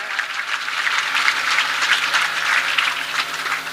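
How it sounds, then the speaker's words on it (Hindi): Sustained applause from an audience at a religious storytelling gathering, steady dense clapping throughout with no voices over it. "टेंट वाले को ताली बजाओ"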